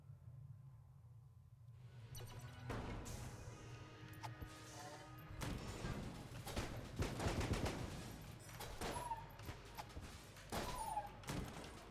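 Kruller Glaive shots in Enter the Gungeon fire in a run of sharp bursts and crashing impacts after a quiet opening, irregular and fairly close, with busy game effects between them.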